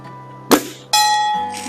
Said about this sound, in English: Shot number 1 at the bell.